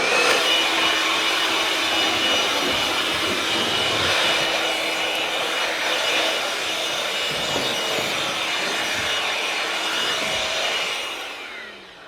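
A battery-powered leaf blower runs continuously at close range, a loud steady whooshing roar that holds even for about eleven seconds before tailing off at the end.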